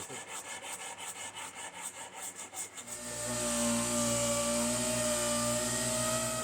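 Wood being shaped and sanded on the heel of a guitar neck, a loud steady rasping grind that follows about three seconds of rhythmic back-and-forth rubbing strokes.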